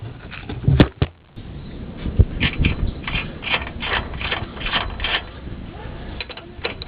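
Ratchet clicks in short bursts while a 14mm nut is run down on a Nissan Frontier shock absorber mount, a quick rhythmic mechanical ticking up close after one sharp knock, with no talking.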